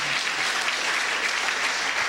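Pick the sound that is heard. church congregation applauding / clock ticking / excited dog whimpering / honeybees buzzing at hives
church congregation applauding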